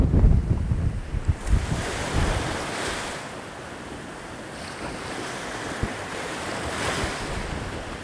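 Strong wind gusts over a clifftop above the sea, buffeting the microphone in heavy rumbling blasts, with the surf washing below; it is loudest at the start, then settles into a steady roar.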